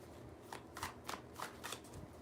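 Playing cards riffled and shuffled in a quick series of soft flicks, about six bursts, quiet and close with no talking.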